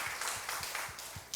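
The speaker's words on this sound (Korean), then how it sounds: "우리 다시 한 번 더 박수로 힘을 주십시다" A church congregation claps in thanks for the uniformed worship greeters, a soft, scattered round of hands heard at a distance with a few sharper individual claps.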